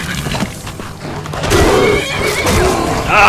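A horse whinnies loudly amid busy game noise, with hoof clatter and impacts mixed in over a few seconds, in the video game Skyrim.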